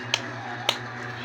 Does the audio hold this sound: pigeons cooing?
no